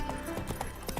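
Roach, the horse in the video game The Witcher 3, clops with quick, repeated hoofbeats over a busy game soundscape for about a second.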